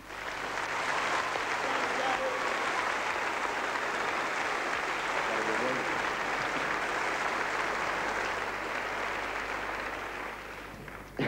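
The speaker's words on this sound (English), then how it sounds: "I would like you to please give him a big round of applause" Sustained, dense applause from a theatre audience at an awards ceremony, loud and steady for about ten seconds before tapering off at the end.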